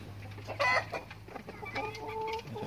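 A hen clucking near a dog in a backyard coop, a few soft close clucks and a brief squawk over a low rural background hum.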